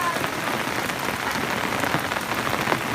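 Steady rain falling on a surface, a dense, continuous patter of drops with no breaks, fairly close and alone without talk.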